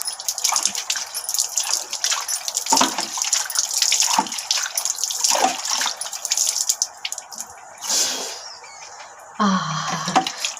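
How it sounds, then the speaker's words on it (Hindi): Tap water runs and splashes as a face is washed, with irregular bursts of pouring, dripping and hand splashing over about ten seconds, close and moderately loud, without talk. "देखिए चेहरे को मैंने साफ़ कर लिया है, पानी से धो लिया है"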